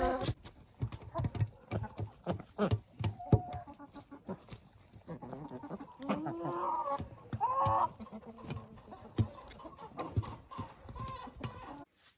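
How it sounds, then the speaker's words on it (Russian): Chickens clucking and pecking at food in a greenhouse coop at lunchtime, with rapid tapping pecks, scattered soft clucks and a few louder calls, close and busy throughout. "У кур обед."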